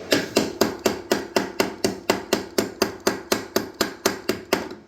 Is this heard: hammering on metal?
yes